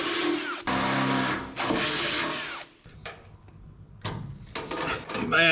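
Power tool bursts while 1/4-20 nut inserts are set into sheet metal on a Loadstar truck body, several short loud whirring runs separated by pauses, with clicks and handling noises between them.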